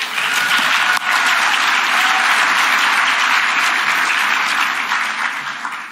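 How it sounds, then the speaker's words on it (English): A large audience at a talk breaks into loud, sustained applause, dense clapping that holds steady for several seconds before tapering slightly. "Round of applause for you."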